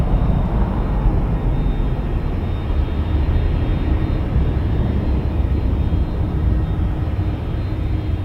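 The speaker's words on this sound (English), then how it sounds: "Airbus A330-300 headed to Amsterdam." A KLM Airbus A330-300 jet at Toronto Pearson airport, a steady broad engine rumble heard from a distance, constant and unbroken throughout.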